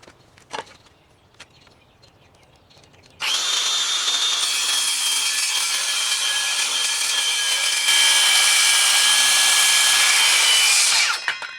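A saw cuts through a metal pipe for a homemade basement pull-up bar, a loud, steady grinding whine that kicks in abruptly after a few seconds of faint handling noise, runs unbroken, grows slightly louder partway through, then stops.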